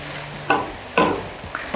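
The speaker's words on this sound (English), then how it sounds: "Give this a really good stir." A spoon stirs a sauce of soy sauce and rice vinegar in a bowl, giving a few brief scraping and clinking strokes close up, spaced roughly half a second apart.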